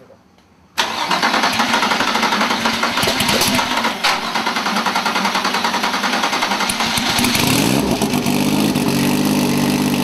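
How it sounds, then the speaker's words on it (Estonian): Drag racing car engine cranking over and firing at a morning test start at Alastaro, then running loud and rough with rapid pulsing idle and revving swells, with voices talking underneath. "kütus sisse ja paneme auto käima"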